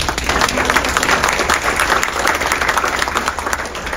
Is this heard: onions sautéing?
no